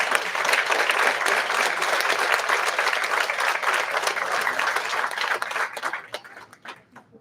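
Graduates and honorees at a college graduation ceremony receive sustained, dense crowd applause that holds steady before thinning into scattered claps and fading out near the end.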